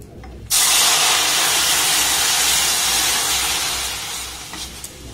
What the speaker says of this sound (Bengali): সেই 3 বাটি দুধ এখানে আমি দিয়ে দেবো